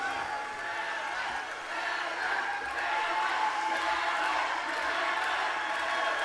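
A rowdy audience at an awards show cheers and shouts in a steady, dense roar that swells slightly partway through and holds without a break.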